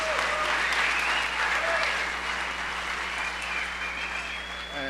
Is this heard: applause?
yes